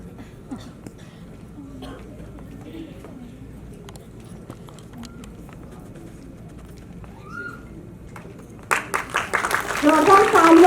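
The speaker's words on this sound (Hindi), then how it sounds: "जोरदार तालियां बच्चों बजाती रहो" Crowd applause breaks out at a charity foundation event honouring people in need, swelling to loud clapping near the end after a stretch of murmuring background chatter.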